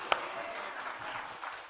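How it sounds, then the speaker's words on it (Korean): Faint, brief applause rises from a church congregation during a Sunday service, a soft spread of clapping led by one sharper clap near the start. "하나님께 영광의 박수 올려드립니다."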